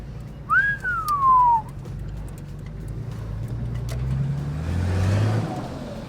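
A Nissan Patrol GQ rolls into a workshop: a clear rising whistle comes first, then a low engine rumble builds steadily and grows louder toward the end, with no talking.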